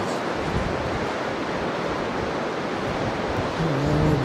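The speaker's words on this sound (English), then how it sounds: "It's an exceptionally quiet day for the surf." Gentle ocean surf on a calm day at the beach, a steady soft wash of breaking waves with light wind, continuous and moderately loud, with a faint low hum toward the end.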